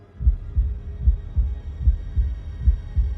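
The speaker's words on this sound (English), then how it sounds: "I realized I could hear my own heartbeat in my ears" A heartbeat sound effect for a horror story thumps low and heavy in a steady rhythm, about a dozen muffled beats in pairs, close and alone.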